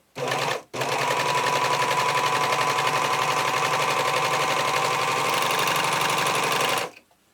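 An Admire Air 5000 serger stitching a gather in fabric with differential feed raised, a brief start and stop, then a steady fast close mechanical chatter for about six seconds before halting.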